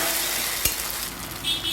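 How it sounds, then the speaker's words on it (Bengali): Ginger and green chili paste frying in a pan after sugar has browned, a steady close sizzle with a sharp stir or clink partway through and no talk. "চিনিটা একটু ভাজা হয়ে গেলে এক চামচ আদা আর কাঁচা লঙ্কা বাটা দিয়ে দিলাম"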